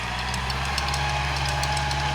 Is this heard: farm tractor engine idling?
yes